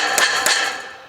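A hammer strikes a bent metal drip cap end dam twice, close and bright, each hit ringing and then fading out.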